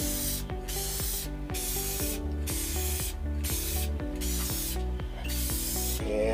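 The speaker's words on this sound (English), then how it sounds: "I'm using Rust-Oleum's paint primer" Rust-Oleum paint primer hisses from an aerosol spray can in a series of about eight short bursts separated by brief pauses, close and clear, with no talk.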